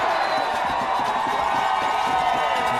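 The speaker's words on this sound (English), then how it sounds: "Listen to this crowd" Crowd noise at a high school football game between Andrean and Eastside, a steady roar of voices and cheering under close announcer-style talk.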